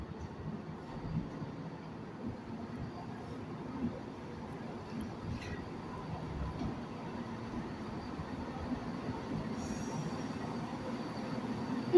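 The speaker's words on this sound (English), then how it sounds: "Arriving slowly into the station." A ScotRail diesel train, unit 174-403, creeping slowly into Dundee station, a low steady engine rumble with faint rail noise, quiet and distant throughout.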